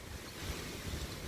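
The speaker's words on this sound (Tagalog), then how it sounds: "Hangin ang kusog." Very strong wind blowing steadily outdoors, a broad continuous roar with gusty surges and low rumbling buffeting on the microphone, no voices present.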